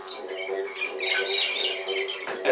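Parrots squawking in a crowd of harsh, overlapping calls from trees full of birds, a continuous bright chatter with a louder burst at the end.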